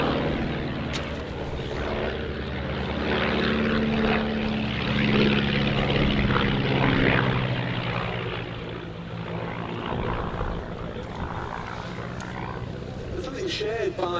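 A Miles Magister and a Tiger Moth fly past at the Duxford Battle of Britain Airshow, their vintage piston engines and propellers droning loud and steady for the whole stretch, swelling and fading slightly as they pass.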